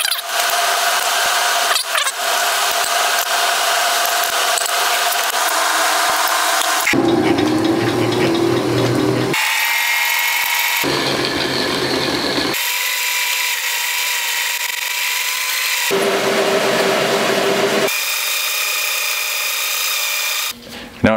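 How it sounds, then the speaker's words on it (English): A drill press bores out the center of a bearing with a 13/32 drill bit, loud grinding and rasping in long bursts that shift in pitch between cuts, with brief pauses. "now we're over here on the drill press. I'm gonna turn the bearing upside down."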